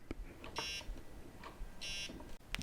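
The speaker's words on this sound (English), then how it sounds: "You'll get an error beep." Two short electronic buzzing beeps about a second apart, faint, an error tone from a Lowrance Hook2 x4 fish finder with light clicks between.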